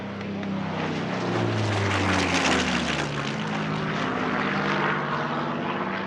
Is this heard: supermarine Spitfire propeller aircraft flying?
yes